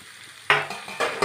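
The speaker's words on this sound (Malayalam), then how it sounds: "ഇതെല്ലാം നമുക്ക് ഒന്ന് വഴറ്റിയെടുക്കാം" Chopped carrot and capsicum hit a hot pan for sautéing, giving a sudden burst of sizzle followed by a few sharp stirring scrapes, close and fairly loud.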